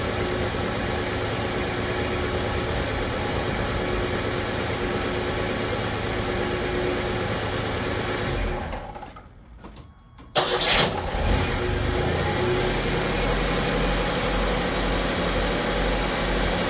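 A Chevy S10 with a swapped-in 3.4 engine runs with a steady mid-pitched drone, briefly drops out, then restarts with a burst and settles back into a rough, continuous idle.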